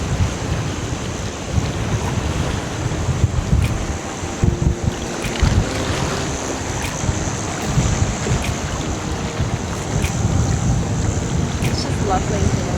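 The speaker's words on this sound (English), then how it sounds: "It's very windy." Strong wind blows across a beach, rumbling over the microphone in constant loud gusts, with waves faintly washing in the background.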